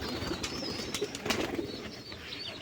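Pigeons coo softly and continuously near their coop as its door is opened, with some wing flutters and faint chirps mixed in.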